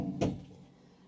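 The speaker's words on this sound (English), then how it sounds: "in the adjoining section, there's two little metal pull-out drawers" A small metal pull-out drawer in a cruise ship interior cabin slides and shuts with one short, soft thud against quiet room hum.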